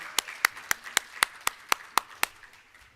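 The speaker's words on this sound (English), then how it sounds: "I want you to give yourself a round of applause for enduring to the end." Sparse, evenly spaced hand claps from an audience at a maritime industry conference session, about ten crisp claps in a row that thin out and fade toward the end.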